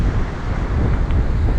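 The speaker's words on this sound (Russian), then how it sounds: "Очень сильный ветер" Strong wind roaring over a stormy sea in Crimea, a loud constant rumbling buffet battering the microphone with no pauses.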